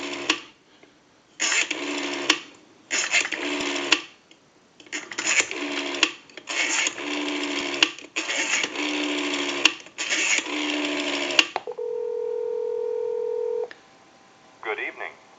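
A brass rotary telephone dialing a number as a series of bursts of dial pulsing, each separated by short pauses, followed by a steady line tone and a brief click near the end; no voices.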